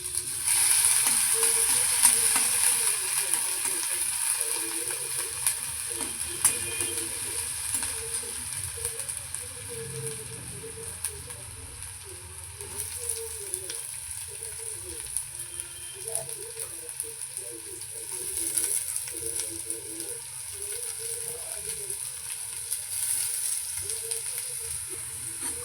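Chillies fry in hot oil for a jowar-bajra dish, giving a steady, close hiss and crackle that runs on evenly with no one speaking.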